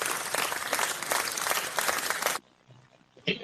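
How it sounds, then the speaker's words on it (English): Applause sound effect, a burst of dense crowd clapping that cuts off abruptly after a couple of seconds, followed by near silence and a faint short noise. "can I get some applause"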